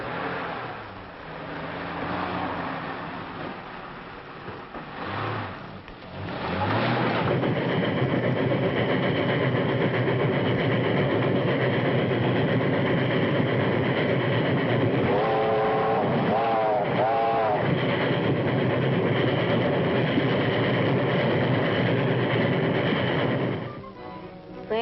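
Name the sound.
train running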